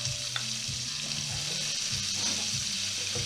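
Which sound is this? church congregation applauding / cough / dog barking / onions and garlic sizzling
onions and garlic sizzling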